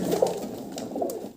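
An imported pigeon coos close by, a soft low throaty call repeated twice within about a second over quiet room noise.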